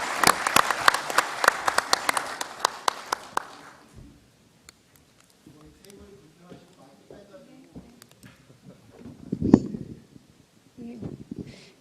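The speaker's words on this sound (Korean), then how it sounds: "여러분 한번 박수로 한번 환영을 해주시면 감사하겠습니다." An audience at a railway community forum founding ceremony gives a burst of crisp, close clapping for a few seconds that fades out, followed by quiet room noises, shuffling and a few soft bumps.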